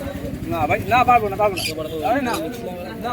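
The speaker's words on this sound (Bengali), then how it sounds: "মানে খাঁচায় কিছু পায়রা আছে" Pigeons, including Fulshira and Giribaz breeds, coo in cages at the Birnagar pigeon market, with soft repeated coos and chirps close by, mixed with crowd chatter and background noise.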